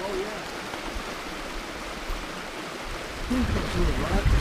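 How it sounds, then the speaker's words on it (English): Stepp Creek in Buffalo National Forest rushes in a steady, broad wash of flowing water at high flow, close and continuous, with people talking faintly over it. "Man, there's a lot of water."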